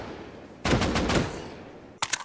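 An automatic rifle from the Minecraft Just Enough Guns mod fires a loud rapid burst lasting about half a second, then a second short burst follows after a pause.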